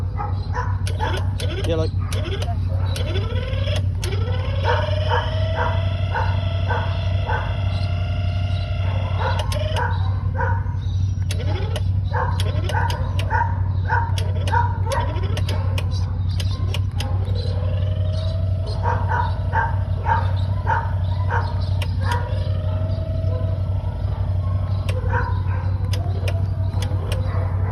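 Greyhound-type race dog barking and yipping excitedly at a lure, repeated close barks in bursts over steady low hum, with someone talking briefly.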